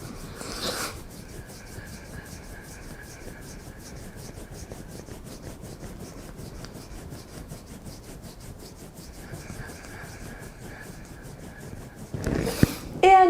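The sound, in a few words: thumbs rubbing the sides of the nose in self-massage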